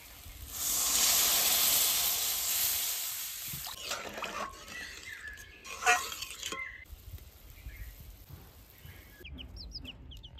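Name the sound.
water added to fried spiced masala, simmering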